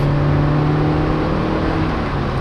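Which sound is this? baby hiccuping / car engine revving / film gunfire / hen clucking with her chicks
car engine revving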